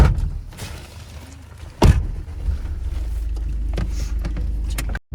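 Inside a moving car: a low engine rumble and road hum, with a thud and rattling clicks near the start.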